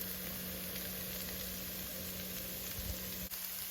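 Green onions frying in a pan with turmeric, chili and coriander powder, giving a steady, close, even sizzle and hiss that carries on without a break.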